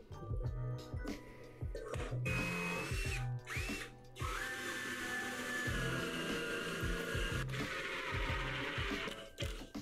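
A power drill drives screws into timber legs on 18 mm plywood while building a CNC enclosure from leftover wood, with repeated loud whirring bursts and short pauses between them, close up and without talk.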